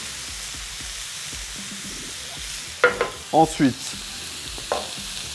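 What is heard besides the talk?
oyster mushrooms frying on a hot plate with olive oil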